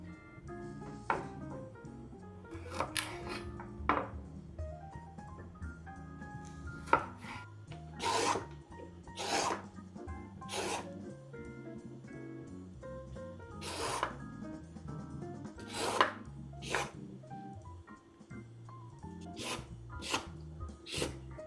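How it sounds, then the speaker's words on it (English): A peeler rasping down raw carrots in repeated short strokes, each a crisp scraping burst with brief pauses between, close and clear with no talking. "it's time to peel the carrots"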